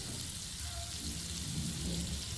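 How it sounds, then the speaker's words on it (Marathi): Makhana (fox nuts) frying in melted butter in a pan, a steady soft sizzle that holds at an even level through the whole short moment, with no voices over it. "तर यात आता मी बटर टाकते."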